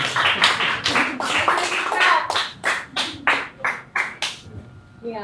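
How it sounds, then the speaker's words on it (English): A startup meetup audience in Cebu claps: a burst of loud, close hand claps that thins into a slower run of distinct, evenly spaced claps before stopping abruptly near the end. "Give yourselves a big round of applause."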